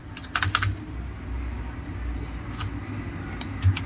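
A command is typed on a computer keyboard: a short cluster of close key clicks, then a pause and a few more isolated taps over a low background hum.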